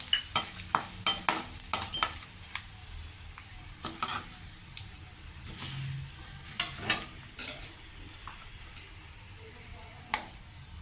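Mustard seeds, cumin and chopped green chilies crackle in hot oil, with scattered sharp pops and spatters over a quiet sizzle and a ladle stirring now and then, close by and fairly soft.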